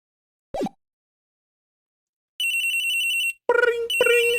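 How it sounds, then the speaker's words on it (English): A cartoonish phone ring tone chimes in Phoenix Wright Ace Attorney, a steady electronic trill followed by a brighter melodic ringing burst, preceded by a brief short vocal blip. "Ring, ring, ring, ring, ring. Phone call, phone call."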